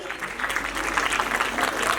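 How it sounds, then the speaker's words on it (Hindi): An audience at an annual function applauds to welcome guests, a dense and fairly close burst of clapping that runs under a voice for the full two seconds. "इन सब का बहुत बहुत तालियों के साथ स्वागत कीजिए।"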